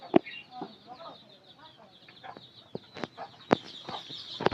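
Chickens just let out in the afternoon cluck in short, irregular bursts close by, with scattered sharper squawks and a few louder peaks.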